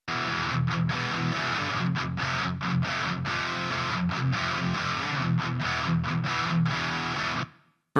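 An electric guitar plays through a Grindstein HM-2 style distortion plugin, thick buzzing chugging chords with short rhythmic breaks, loud and alone, cutting off abruptly at the end.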